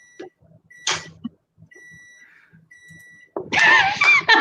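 An alarm beeps in faint, steady tones through a quiet room, with short sounds in between, before voices break in loudly near the end.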